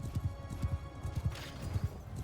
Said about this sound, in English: Oh, those are all horses.